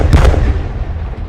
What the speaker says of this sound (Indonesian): 3 ledakan terjadi persis di tengah pasukanku.